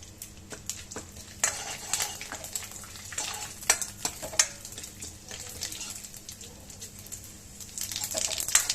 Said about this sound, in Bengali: কড়াইতে আমি তেলটা গরম হয়ে গেছে, আমি হিং দিয়ে দিয়েছি। দেব তেজপাতা আর শুকনো লঙ্কা, দেব একটু জিরে,